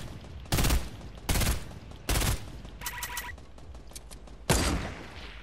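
Gunfire rings out in Fortnite in four loud, sharp bursts of rapid shots spaced about a second apart, with a short beeping game tone between them.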